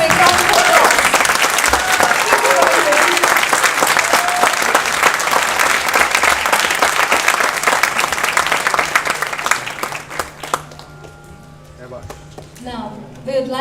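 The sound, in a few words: audience applause after a performance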